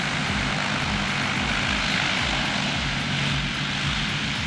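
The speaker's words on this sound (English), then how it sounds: "This Twin Otter was struggling hard, flaps down at 20, but the runway just wasn't enough." A Twin Otter turboprop straining at full power with flaps set to 20 during a failed takeoff attempt, its loud, steady propeller and engine roar filling the scene continuously with no letup.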